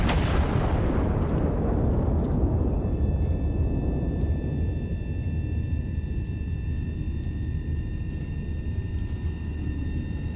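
Artillery fire in the game Iron Nest: a heavy explosion opens with a loud boom, then a long rumbling decay lasts for several seconds while faint high tones ring above it.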